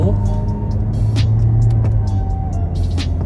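A 2018 Toyota Yaris TRD Sportivo pulls away in first gear under manual mode, its engine giving a steady, loud low drone and rumble that holds without break throughout.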